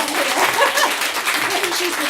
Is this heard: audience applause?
yes